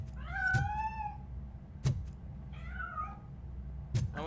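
Several cat meows, some drawn out and rising, inside a large basement in the video game RoboCop: Rogue City, with soft thumps between calls against a low ambient hum.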